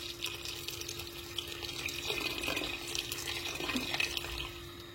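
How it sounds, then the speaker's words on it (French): Water poured over meat in a pot for couscous, a faint steady trickle and splash with a low background hum. "Je viens rajouter un petit peu d'eau. Jusqu'à recouvrir toute la viande."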